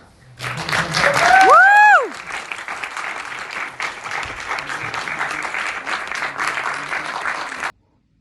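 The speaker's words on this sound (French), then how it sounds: "On va applaudir." Audience applause after a film screening and debate, a full continuous round of clapping from a room of people, loudest near the start while a voice speaks over it briefly, then steady until it cuts off.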